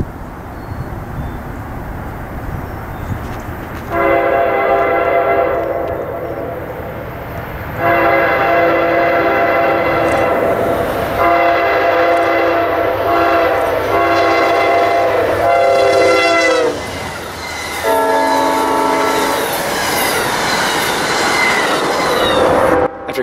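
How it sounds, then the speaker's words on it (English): The northbound Amtrak Palmetto passenger train leaves its Savannah station stop, rumbling loudly past close by and sounding its horn in several long, chord-like blasts over the clatter of the wheels. "catch the northbound Palmetto Amtrak PO90 making its way out of its station stop in Savannah"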